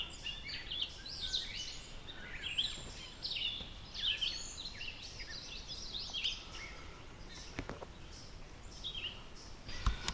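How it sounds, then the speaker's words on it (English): Several birds sing near a beaver pond in a quiet outdoor setting, bright chirps and warbling phrases repeating from a moderate distance over faint background hush, with a couple of soft thumps. "Lots of pretty birds singing though."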